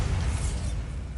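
In Hogwarts Legacy, a Bombarda blasting spell goes off as a short, loud explosive burst with a rushing, crackling tail that fades over about a second.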